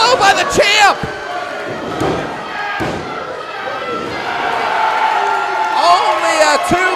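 Spectators at a live pro wrestling show roar and whoop after a low blow in the ring, with loud thuds near the start and a commentator talking over the swelling crowd.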